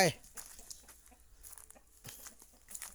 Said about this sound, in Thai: นี่มีเป็ดมีไก่ครับ